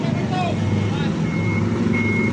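A reversing alarm beeps steadily at regular intervals as a bus backs up at night in a parking area, over a loud, constant idling engine rumble; distant voices murmur in the background.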